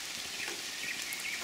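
Rain falls in a steady, even hiss with scattered light droplet patters, close and continuous, with no talking.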